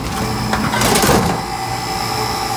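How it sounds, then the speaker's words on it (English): An air conditioner's indoor blower motor runs rough and unhealthy with a failing capacitor, giving a steady mechanical whir with rattling, uneven texture close by, a louder swell in the middle and no talking. "Indoor blower motor's running, but sounds terrible."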